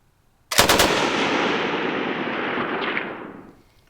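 A 1942-era Bren light machine gun fires a 15-round burst on automatic at the normal rate, a dense, loud continuous roar of shots lasting about three seconds with a sharp onset, fading out at the end.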